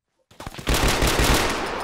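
Rifle fire in a military shooter game, a short burst of rapid shots followed by a sustained rattle of automatic gunfire, loud and close, with no talk over it.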